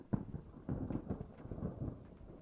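Thunder rumbling over steady rain in a graveyard setting, likely from a horror video game, with low rolling swells and a continuous wash of rainfall throughout, moderately loud and without speech.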